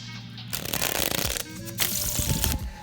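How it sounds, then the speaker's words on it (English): A stiff new Murphy's Magic deck printed on Bicycle card stock is riffle shuffled up close, two quick crisp bursts of fluttering card slaps separated by a brief pause. "It's even hard to riffle shuffle at first."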